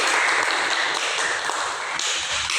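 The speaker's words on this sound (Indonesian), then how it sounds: "beri tepuk tangan kepada Bapak" A short burst of applause from a classroom group, many hands clapping steadily throughout at a fairly even level.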